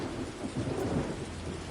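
Steady rain falling over a field with low, rolling thunder rumbling through it, a continuous damp hiss with a deeper swell near the middle.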